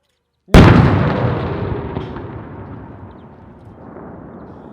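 A single explosion booms suddenly about 600 metres away, followed by a long rumbling roll that slowly fades out.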